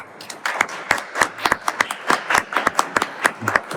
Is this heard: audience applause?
yes